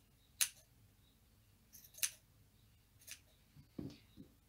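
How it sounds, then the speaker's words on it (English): Scissors snip through crochet yarn loops on a pair of baby slippers, giving several sharp, close, quiet cuts spaced about a second apart, with soft handling rustles between them. "I'm actually going to cut them smaller all around."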